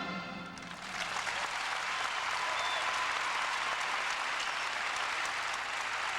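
An ice-skating show audience applauds figure skaters, the clapping swelling quickly into a dense, sustained roar that carries on steadily to the end.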